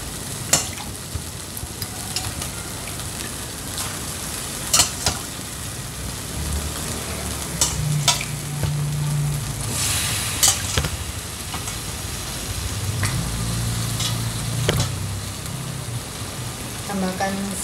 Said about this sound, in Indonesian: Lalu masukkan daging kambingnya,